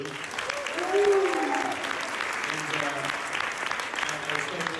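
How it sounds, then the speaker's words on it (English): A convention panel crowd at MegaCon Tampa Bay applauds the show crew, steady dense clapping filling the room, with a voice talking over it near the start and again later. "Can we get a round of applause for the crew?"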